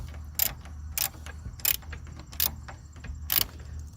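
A 1/4 inch ratchet with a deep socket tightens a bolt during radiator fan replacement on a 2002 Mustang GT, giving about five short, sharp metallic clicks spaced unevenly over a low engine-bay rumble.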